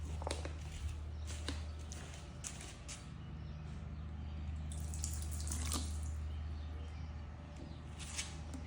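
Water sheets and trickles off a car freshly treated with Adams Graphene ceramic coating, a steady wash of running, splashing water over a low background hum, with no one talking.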